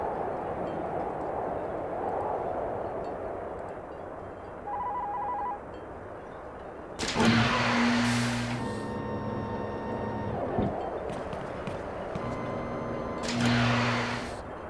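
Cable car ride in the video game Dreamfall The Longest Journey, a steady mechanical hum and rumble with short electronic tones and beeps, rising to louder whirring stretches as the car moves.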